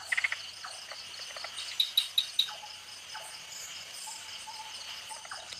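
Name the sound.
tree frogs calling at night in Thailand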